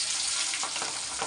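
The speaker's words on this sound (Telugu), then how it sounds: "నూనెలో అయితే వేస్తున్నాం" Fish frying in hot oil, a steady dense sizzle with faint crackling bubbles, close and continuous throughout.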